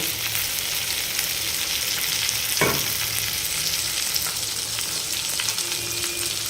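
Water splashes into a pan of frying puti fish with a brief gushing pour partway through, set against a steady loud sizzle and crackle that carries on before and after, with no speech.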